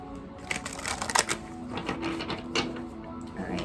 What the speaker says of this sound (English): just gonna give one more shuffle